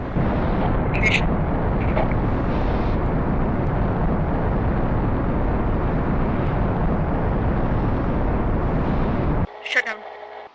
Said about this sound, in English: And that looked like a successful engine firing.